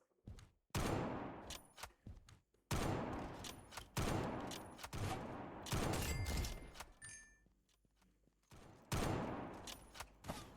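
Gunfire in a Roblox game comes in loud bursts of rapid shots, repeated several times with short gaps between volleys.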